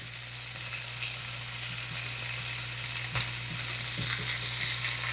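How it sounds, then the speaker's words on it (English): Fresh raw shrimp fry in a hot pan with a steady, close, broadband sizzle and a constant low hum beneath, dotted with a few sharper crackles and pops; no one speaks. "You want to cook the shrimp for maybe about 2 or 3 minutes per side."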